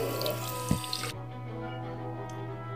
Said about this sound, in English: So, first turn on the faucet.